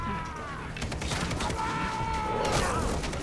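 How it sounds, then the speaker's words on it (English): A burst of crackling explosions from an explosive arrow in Far Cry 3, dense and loud, with rapid popping and a ringing whine trailing over the blast. "this is the best explosive arrow ever"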